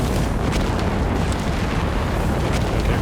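Heavy explosions from Stuka air strikes in the Company of Heroes 3 strategy game: a continuous loud, dense rumble of blasts with faint sharp pops on top, no voices.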